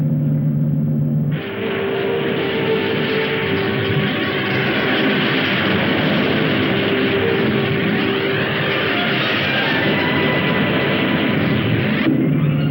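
Rocket engines of a spacecraft roar during launch, a loud, sustained broadband rumble that swells in abruptly and holds steady for about ten seconds before cutting off.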